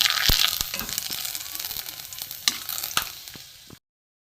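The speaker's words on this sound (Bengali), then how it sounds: "এখানে তেজপাতা একটা শুকনো লঙ্কা, এখানে গোটা গরম মশলা দিয়ে দিলাম।" A bay leaf, a dried red chilli and whole garam masala sizzle in hot mustard oil, a close crackling hiss with sharp spoon clicks and scrapes, fading toward the end and then cutting off abruptly.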